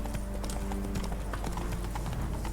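Geralt's horse Roach galloping in The Witcher 3, a steady rapid clip-clop of hooves running continuously and loud throughout, over a low ambient game background.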